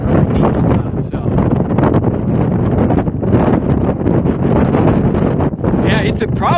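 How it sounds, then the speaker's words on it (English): Strong wind gusts roar steadily across the microphone outdoors on a cold Montana evening, a constant rumbling buffet that barely lets up. "the wind's blowing right through you here"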